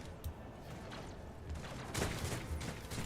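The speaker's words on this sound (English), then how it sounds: "Oh, I can hear gunfire." Faint bursts of gunfire from the video game Rogue Trader crackle in the distance, irregular and muffled, building slightly louder toward the end.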